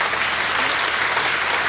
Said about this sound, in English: can we give Comrade 12 a nice round of applause?